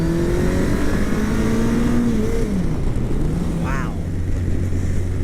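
A Kawasaki Concours ZG1000 sport-touring motorcycle engine pulling hard in second gear, a loud continuous drone that rises and shifts in pitch, heard up close with a rider talking over it.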